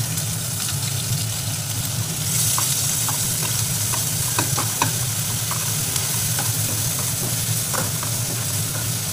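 Spoon stirring onion, garlic and ginger paste with chili powder, turmeric and salt in a hot pan, a loud continuous sizzle broken by scraping clicks and knocks, close up with no voice.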